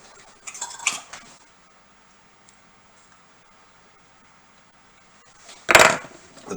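Carrots dropped into an oiled pan make a brief clatter and scrape of metal, followed by a quiet pause and a second louder clank of food and utensil hitting the pan close by.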